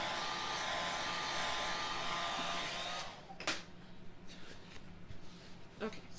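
A blow dryer runs with a steady, fairly quiet whirring hiss for about three seconds, then cuts off, leaving soft handling and rustling sounds.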